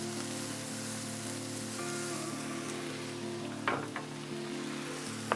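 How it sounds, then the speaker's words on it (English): Butter sizzling on a Blackstone griddle while buns are toasted for smashburgers: a steady, close hiss over a low hum, with a couple of small clicks near the end and no talking. "Throw down some butter right here."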